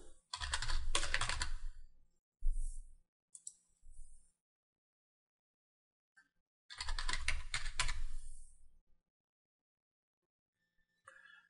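Someone types a username and password on a computer keyboard in two close, rapid bursts of key clicks, separated by a few isolated keystrokes and silence.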